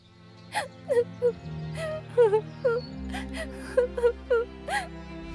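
A high, wavering crying call repeats in short bursts, like a small bird wailing, over a steady background tone.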